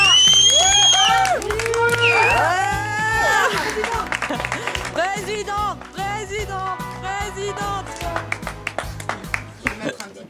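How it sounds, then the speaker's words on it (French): Audience cheering and clapping for a woman president of the MPT, with scattered whoops under a loud, music-like background and a voice calling out over the crowd. "Alors, allez, on l'applaudit très fort."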